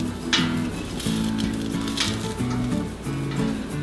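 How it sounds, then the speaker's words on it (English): Butter melting in a pot on a stovetop burner gives a steady, soft sizzle and crackle. It runs continuously with low hum and light clatter underneath, and no one speaks. "I'm gonna first add 3 tablespoons of butter and get that melting."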